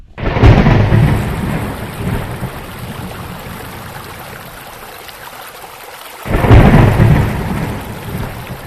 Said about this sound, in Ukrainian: дощ, вітер, грім.